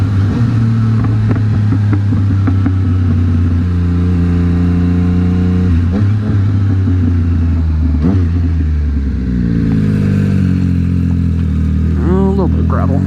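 A car engine idles and revs at close range as the vehicle swings through a U-turn, with gravel crunching under the tires near the end and a person talking over most of it.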